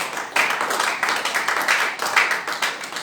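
A church congregation claps together in acclaim of the Lord, steady rhythmic handclaps repeating over a few seconds, moderately loud and fairly close, with faint background voices.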